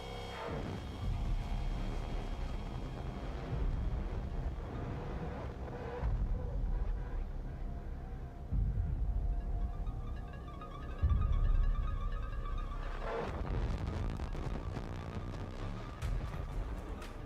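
Moody soundtrack music from the horror film It Follows plays on its own with no talk, a steady, dense wash with sustained tones and swells that build and shift throughout.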